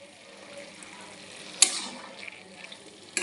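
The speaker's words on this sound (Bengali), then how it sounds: "আবার নাড়িয়ে দেব" Cabbage and peas being stirred in a kadai give a soft, faint sizzle with a sharp metallic scrape or clatter midway and another at the end, and no speech.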